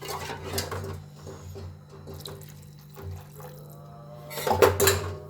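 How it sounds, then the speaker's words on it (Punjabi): Water pours and splashes into a metal pot of potato and moong badi curry, with a low steady hum underneath and a louder burst of splashing near the end. "ਹੁਣ ਮੈਂ ਇਹ ਪਾਣੀ ਥੋੜਾ ਜਿਹਾ ਹੋਰ ਪਾਉਂਗੀ"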